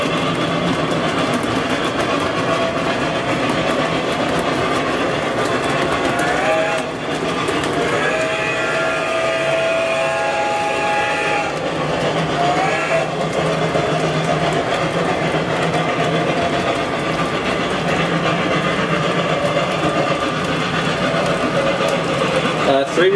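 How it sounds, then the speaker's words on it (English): Old 1990s Lionel Southern model train locomotive fitted with TCS WOW sound, a continuous loud rumbling run with rhythmic clatter and brief whistle-like tones in the middle, while people talk. "the Southern engine is an old Lionel one from the 90s, but I've put TCS wow sound in it."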